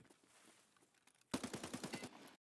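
Gunshots in Escape From Tarkov, a video game, crack out as a rapid automatic burst of about eight evenly spaced shots, loud and close, after a quiet stretch of faint ambient noise, then cut off sharply.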